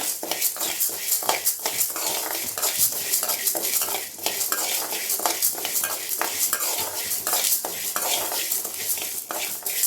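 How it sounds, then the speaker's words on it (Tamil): Sesame seeds, pepper, cumin and coriander dry-roast in a pan, with continuous crackling and rustling as the spoon stirs and scrapes, plus frequent metal clinks at close range. "எள்ளு, மிளகு, சீரகம் எல்லாத்தையும் சேர்த்து நல்லா வறுத்துக்கோங்க"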